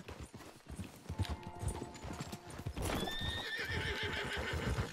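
A horse in the Red Dead Redemption 2 video game trots with rhythmic clip-clopping hooves, then lets out a loud, drawn-out whinny over continued hoofbeats, close and clear.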